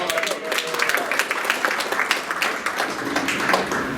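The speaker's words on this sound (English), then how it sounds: "Go ahead and applaud if you know what it's about." Audience applause at a State of the City 2024 address, a steady patter of clapping from a crowd heard alone at moderate volume for about four seconds.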